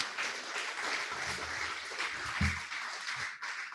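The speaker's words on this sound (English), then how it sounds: "let's have a nice round for our presenter today." Applause for a presenter at a hybrid Rotary club meeting, a steady patter of clapping from a modest crowd lasting a few seconds, fairly faint with a brief voice underneath.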